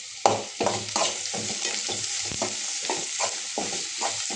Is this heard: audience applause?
no